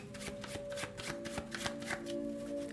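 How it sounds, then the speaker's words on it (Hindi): Tarot cards are shuffled for an Aries reading, a close, brisk run of papery riffles and soft slaps in quick succession with a faint background hum and no speech. "तो चलिए शफल कर लेते हैं कार्ड्स को एरीज मेष राशि के लिए"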